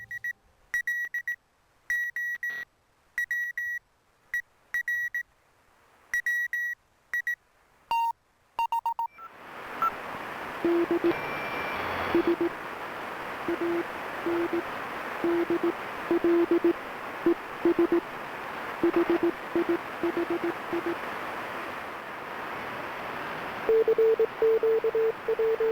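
Morse code CW signals on the 40-meter amateur radio band: crisp, evenly spaced dots and dashes beep alone against silence, then after a burst of hiss a fainter keyed tone pulses on beneath steady static.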